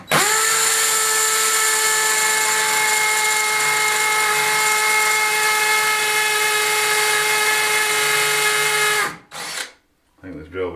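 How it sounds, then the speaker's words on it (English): A worn drill bit bores into stone in an old cave finca, one long steady high-pitched whine lasting about nine seconds before cutting off, followed by brief clatter and rustle. "I think this drill bit's seen better days."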